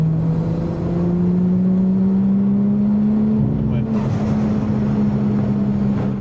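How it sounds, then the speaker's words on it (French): Turbocharged car engine under full load with boost reaching its limit, a steady droning note rising slowly in pitch, then broken by a rougher, choppier stretch near the end as the power cuts in and out, loud and close, with a voice talking over it. "en pleine charge la voiture avait des cuts"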